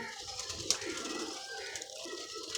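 Pigeons cooing softly nearby, low murmuring coos under steady background hiss, with a sharp click partway through.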